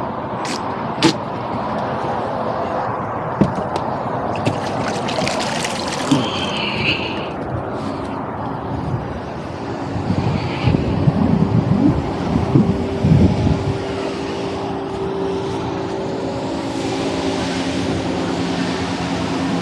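A ProBoat Sonicwake V2 RC boat races across choppy water, its high electric whine rising and fading over a constant wind buffeting the microphone, with a few sharp knocks early on and a louder close pass midway.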